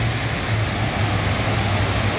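Floodwater of the Ipanema river in Santana do Ipanema, Alagoas, rushes after heavy rain as a constant loud roar, with a faint low hum running underneath.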